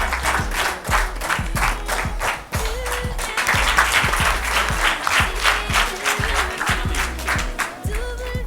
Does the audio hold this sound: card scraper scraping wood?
no